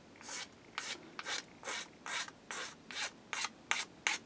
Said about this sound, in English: I'm going to take my file, hold this wood over the bed,